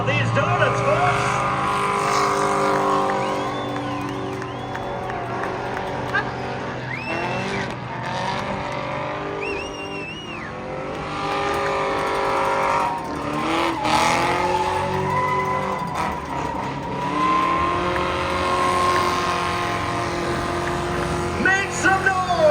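A race car does donuts at Kern Raceway with its engine roaring, the revs rising and falling as the tires squeal and skid. The noise is loud and continuous for the whole stretch, and an announcer talks over it.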